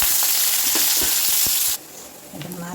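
Onion, green chilli and curry leaves frying in hot oil, a steady close crackling sizzle that suddenly drops to a softer bubbling hiss partway through.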